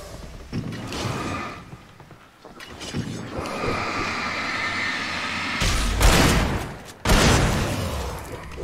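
Gunfire and booming action fill a loud scene in the video game Alan Wake. Blasts and rumbling bursts come in irregular bunches, with a heavy burst toward the end.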